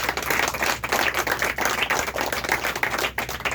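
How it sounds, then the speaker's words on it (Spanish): A church congregation claps and applauds for the pastor, a dense, steady wash of hand claps filling the whole stretch with no one speaking over it. "Un aplauso al pastor Cristo bendito."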